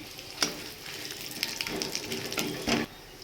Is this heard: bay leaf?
yes